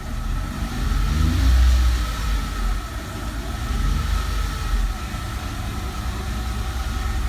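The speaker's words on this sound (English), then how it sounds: "just been letting it sit here and park, idling" A Mercedes SLK 320 engine idles with a steady, low rumble, slight swells in loudness and no voices.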